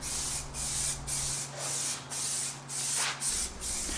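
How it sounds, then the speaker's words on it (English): A spray can lays primer onto the grille surround of a 2022 Toyota Tundra in about eight short, evenly spaced hissing bursts, close and loud, with a low steady hum beneath. "I will start by spraying primer down on the edges first."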